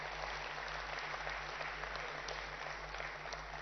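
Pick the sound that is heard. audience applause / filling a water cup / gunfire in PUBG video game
audience applause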